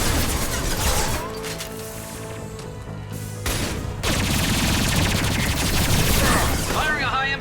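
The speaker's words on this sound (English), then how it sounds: "Firing a high impact shot" Combat sounds from the Mass Effect 2 video game, including a heavy high-impact gunshot amid dense, loud gunfire and clattering impacts, with a brief lull near the middle before the firing resumes. Game music or ambience runs underneath.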